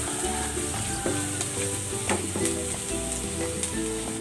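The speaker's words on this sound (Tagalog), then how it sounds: "Magisa na tayo. Ilagay na natin tong bawang." Garlic hitting hot oil in a pan for garlic pork steak, a dense continuous sizzle with light clicks of stirring, close and even in level.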